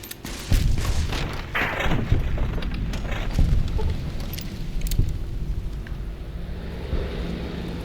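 Repeated bomb blasts and deep thuds in a large battle in the Fallout New Vegas video game at Hoover Dam, with bursts of gunfire and a steady low rumble underneath, loud and continuous.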